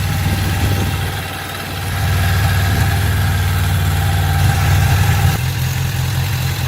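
A 1994 Suzuki Katana 600 (GSX600FR) motorcycle engine idles steadily with a low, even throb, loud and close, dipping briefly before settling back to its rhythm.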